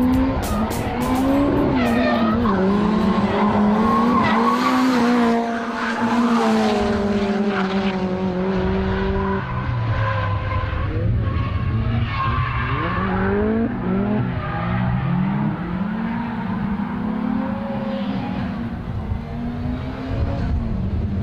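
Nissan Silvia S13 and 180SX cars drift around a circuit, engines revving hard and wailing up and down in pitch with tires squealing and skidding, loud and continuous.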